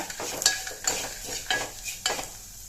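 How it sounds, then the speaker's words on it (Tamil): Stirring asafoetida and a dried red chilli as they fry in hot oil for rasam: four or five scraping strokes of a spoon in the pan at a steady rhythm over a soft sizzle, close and clear, no talk. "இது கூட பெருங்காயத்தூள் கொஞ்சமாக சேர்த்துக்கங்க சேர்த்துட்டு எண்ணெயிலே ஒரு முறை இந்த மாதிரி பரட்டி விடுங்க"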